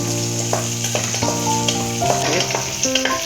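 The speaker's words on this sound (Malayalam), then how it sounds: "വെളുത്തുള്ളി നല്ലപോലെ ഒന്ന് വാടി വരണം" Garlic sizzles in a hot pan for vendakka curry, a steady close frying crackle with occasional stirring clinks and scrapes and no talk.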